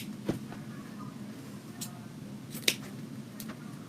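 Scissors snip through ribbon for a ruffle wreath, a few short, sharp cuts spaced apart over a quiet, faintly noisy room with no talking.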